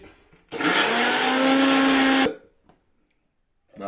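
A mixer grinder with a small jar whirs loudly for about two seconds in one continuous burst while grinding two green chillies into paste, then stops abruptly, leaving near silence.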